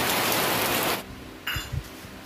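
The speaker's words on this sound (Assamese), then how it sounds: "বৰষুণ আহিলে পূৰা হঠাৎকৈ আহিলে বৰষুণ" Rain starts up suddenly as a loud, dense wash of hiss that fills the first second, then falls away to a low background with a few scattered knocks and bumps.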